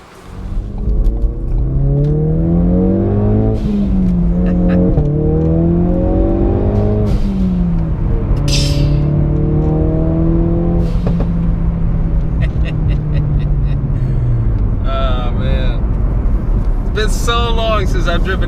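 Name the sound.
Ford Focus RS with manual gearbox being driven, engine revving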